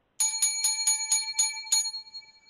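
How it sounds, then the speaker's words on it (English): Seven bright bell strikes ring out in quick, even succession, each clear and close with shimmering overtones, the last one left to fade out alone. "7 lucky bells."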